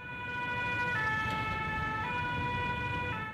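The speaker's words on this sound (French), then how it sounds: "L'équipe d'intervention se met donc en branle, la sirène en alerte." Emergency vehicle siren wailing steadily as a rescue team heads out to a motorcycle collision, a continuous, fairly distant tone with a slow rise and fall over street rumble, no voices.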